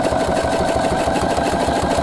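A Husqvarna Viking sewing machine runs steadily while stitching a buttonhole, its rapid needle chatter forming a dense, even mechanical hum close by throughout, with no talk.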